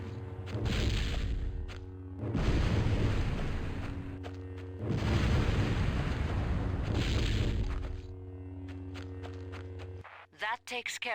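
Explosions destroying an anti-orbital cannon in the Star Wars: The Clone Wars video game: three long rumbling blasts in a row over a steady game soundtrack, followed by lighter clattering sounds.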